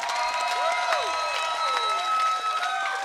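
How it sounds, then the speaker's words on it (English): Festival crowd at the 2021 Cajun Zydeco Festival in New Orleans applauding after a zydeco set, a steady wash of distant clapping and some cheering, with sustained ringing tones from the stage sound over it. "give the New Orleans Jazz and Festival, Jazz Festival Heritage, a big round of applause"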